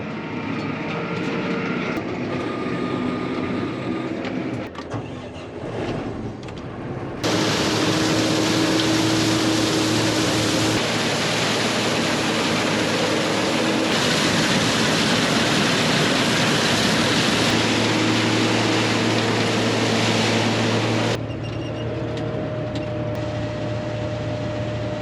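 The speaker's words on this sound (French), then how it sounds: "C'est mûr, on moissonne le colza." A combine harvester works a field of ripe rapeseed, a loud, steady mechanical roar and whir that swells abruptly into full running, then drops back near the end.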